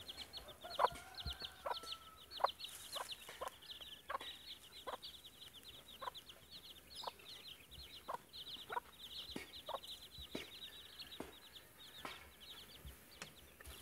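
Chickens cluck steadily, with repeated short sharp calls and a brief crow-like call early on, over a faint outdoor background in hot weather.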